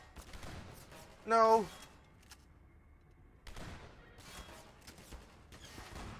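Gunfire in Half-Life 2 VR crackles in scattered bursts at moderate distance, mixed with a brief electronic tone and a short spoken word from a player.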